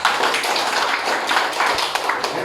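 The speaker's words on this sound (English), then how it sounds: "Everybody, let's give a warm of applause." A classroom applauds a student's correct answer, a dense, steady patter of many hands clapping together, close and fairly loud throughout with no talking over it.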